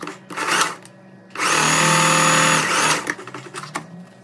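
A sewing machine stitches a pocket seam on wide-leg trousers. It starts with short buzzing bursts, then runs in one steady, loud whir for over a second before tapering back into brief stitching bursts.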